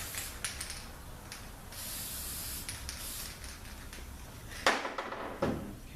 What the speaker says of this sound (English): Give it a little spray here on the bottom.